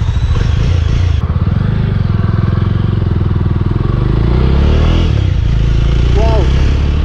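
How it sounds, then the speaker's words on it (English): A Jawa 42 motorcycle engine starting and idling, with a steady loud thumping exhaust pulse close by that rises slightly as it revs. "we have to put the clutch in to press the ignition"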